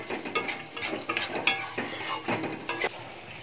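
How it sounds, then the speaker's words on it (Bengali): Spoon stirring sugar into a pointed gourd (potol) curry in a pan, a run of close scraping and clinking strokes against the metal with a soft sizzle underneath, no voices. "চিনিটা দেওয়ার পরে একটু মিশিয়ে নিচ্ছি।"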